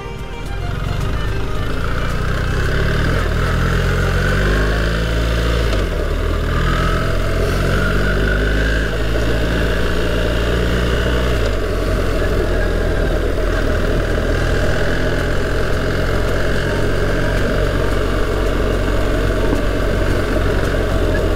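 BMW R1300 GS motorcycle engine while riding through the Los Monegros desert, a loud, steady close drone with a rev change early on, over wind rush for about twenty seconds.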